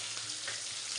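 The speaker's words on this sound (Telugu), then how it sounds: "కొంచెం గోల్డెన్ బ్రౌన్ వచ్చే కలర్ చేంజ్ అయిన దాకా ఫ్రై అవ్వాలి" Bay leaf and green chillies fry in hot oil in a pan, giving a steady, close hiss and crackle that holds evenly from start to finish with no voices.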